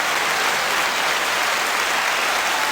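Steady, dense clapping from a crowd honoring first responders at an NFL game, a continuous bright wash of applause with no breaks.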